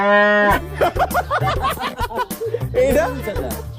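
A single cow moos once, long and loud and close by, before people start talking and laughing over it.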